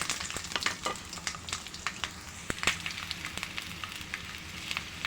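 Onion, green chili and cumin frying in mustard oil, a close, crackling sizzle with frequent sharp pops and spatters scattered throughout, steady and fairly lively with no voices.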